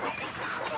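Free-range village chickens clucking nearby in a short, busy burst of overlapping calls, fairly quiet.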